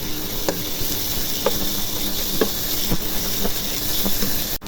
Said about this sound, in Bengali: আদা রসুনটা ভেজে নিব।